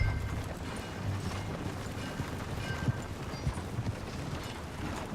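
Horse hooves clip-clop steadily at a riding pace in the Red Dead Redemption 2 video game, a continuous rhythmic trot with a few louder hoof strikes, moderately close, with no talk over it.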